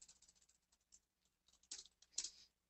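Quiet tapping on a computer keyboard, a few light scattered clicks followed by two sharper bursts of keystrokes, close by and faint, with no talking.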